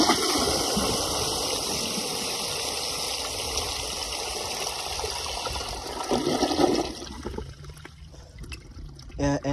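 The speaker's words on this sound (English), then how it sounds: "now it pretty much flushes like a front flusher" A 1920 Standard ejector toilet flushing, a loud steady rush of water that runs for several seconds, then fades into gurgling and trickling as the bowl refills.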